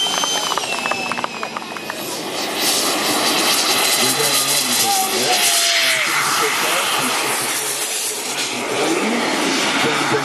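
A radio-controlled model jet flies at a fly-in, its engine a continuous loud whoosh rising and falling as it passes, with no talk over it.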